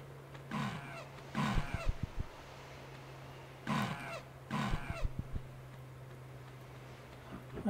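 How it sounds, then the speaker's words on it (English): A gorilla in the Colosseum level of Tomb Raider 1 Remastered gives two pairs of loud, harsh roaring bursts, each followed by a quick series of thumping chest beats, with quieter gaps between them over a steady low hum. "I swear I just heard a gorilla"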